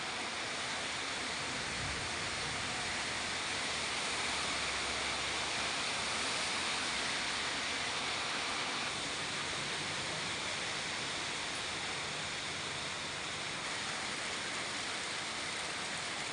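Heavy summer rain pours steadily and densely, a loud continuous roar of water on surfaces with no break and no speech.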